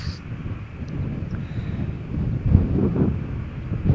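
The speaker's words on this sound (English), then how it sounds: "Oh, look at this, how windy it is." Strong gusty wind at Malaga Airport on a stormy morning, a low rumbling buffeting roar that swells and surges in heavier gusts toward the end, with a faint distant hum of aircraft underneath.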